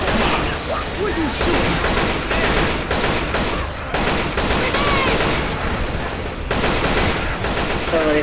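Rapid gunfire in the zombie shooter game Left 4 Dead 2, loud bursts of automatic and repeated shots filling the whole stretch with brief gaps, voices faintly mixed underneath.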